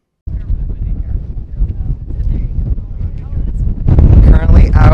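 Strong wind buffets the microphone in low rumbling gusts on a ship's helipad crossing the Atlantic, growing louder and rougher toward the end, with a faint voice briefly underneath.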